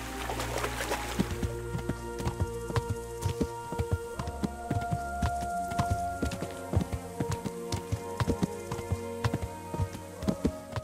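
Horse hooves clip-clop in a steady rhythm while riding alongside a stream in Kingdom Come: Deliverance, a repeated clatter of footfalls running throughout over a low continuous background.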